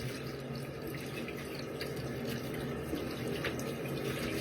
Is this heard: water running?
yes